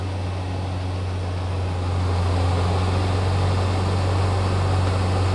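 A Toyota Yaris with a worn wheel bearing gives a steady low drone while driving, a constant loud hum that grows slightly louder partway through, with no voices.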